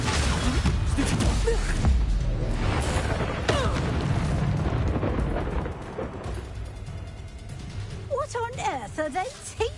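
Spell explosion from the Confringo curse in a Hogwarts wizarding video game, a booming burst layered over shouted dialogue and in-game effects, with fizzing magical whooshes toward the end.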